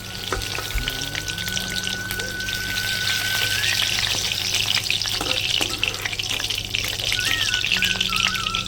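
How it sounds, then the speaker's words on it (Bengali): Pointed gourd (potol) frying in oil makes a loud, continuous crackling sizzle that stays steady throughout, with occasional clinks of a utensil against the pan. "আমার পটলটাও প্রায় ভাজা হয়ে গেছে"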